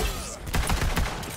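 The Dastardly Maggie, a legendary Jacobs gun in a video game, fires a quick burst of several rapid shots in a tight rhythm, fairly loud over low game background.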